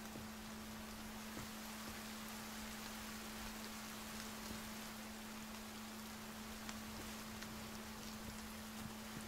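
Steady rain in the video game The Forest falls continuously, a dense hiss of drops with a constant low hum beneath it; no voices.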